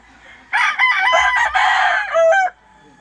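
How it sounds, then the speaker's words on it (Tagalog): Roosters crowing and chickens clucking on a farm, with a loud, close drawn-out crow that rises and falls over about two seconds, standing alone against a quiet background. "Daming mga manok dito, mga kakugi."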